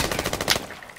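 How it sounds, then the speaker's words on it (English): Automatic gunfire in the tactical shooter game Squad, a rapid burst of shots over about half a second, loud and close, then a quieter tail. "Taking fire, taking fire."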